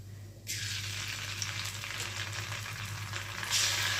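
Dry red chillies and radhuni seeds hit hot oil for a Bengali shukto tempering, bursting into a steady, bright sizzle that holds for several seconds and swells slightly near the end, close up with no voices.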